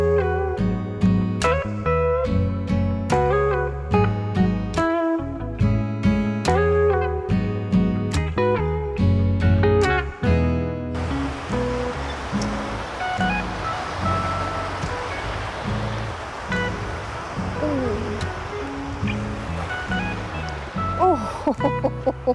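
Sea waves at Terra Nova beach in Spain wash in as a broad, steady hiss of surf, heard after a stretch of music fades out.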